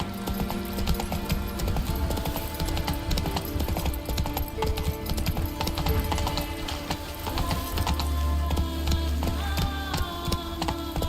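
Hooves of Roach the horse in a video game, a rapid rhythmic clip-clop of galloping amid a busy game soundscape and music, continuous and fairly close.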